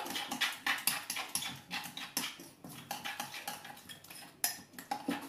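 Capers, onion and parsley being stirred in a bowl for steak tartare, with a spoon clinking and scraping against the dish in quick, irregular strokes, close and fairly loud.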